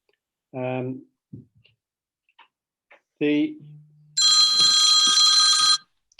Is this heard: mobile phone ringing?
yes